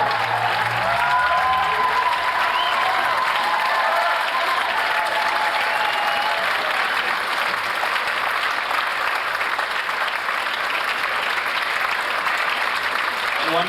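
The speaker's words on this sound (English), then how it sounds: "One final round of applause, ladies and gentlemen, for our maestro, 10 years, Scott Marcus." Sustained audience applause fills a concert hall at the UCSB Middle East Ensemble's 1999 fall concert, a dense, steady wash of many clapping hands that holds loud and even throughout, with faint voices and a brief tonal trace early on.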